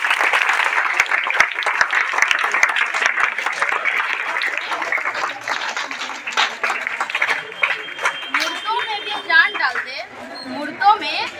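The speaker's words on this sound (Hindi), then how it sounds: "तालियों से स्वागत इनका।" A crowd at a school talent show in Bihar applauds a performer with loud, sustained clapping that thins toward the end as children's chatter and voices rise over it.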